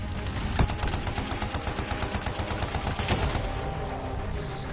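Rapid automatic turret fire in the Anthem video game, a dense rhythmic stream of shots rattling steadily for several seconds with a few louder single blasts, loud and close.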